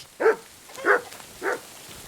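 A dog in the medieval video game Kingdom Come Deliverance II barks three times, evenly spaced and moderately close, with a faint rainy hiss in the background.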